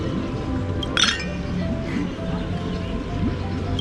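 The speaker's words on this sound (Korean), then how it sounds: "그럼 함께 잔을 들고 건배하자." Glasses clink once in a bright, sharp toast inside the game Honkai Star Rail, the chime rising briefly over a steady orchestral music bed.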